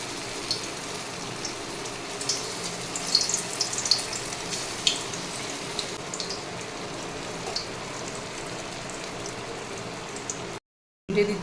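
Soybean kofta balls fry in hot oil in a wok, a steady, gentle sizzle with scattered bubbling pops, close and continuous before a brief cut near the end.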